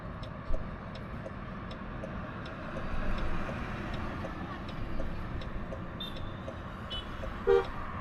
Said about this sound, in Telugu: 36 రాగానే హార్న్ కొడుతుంది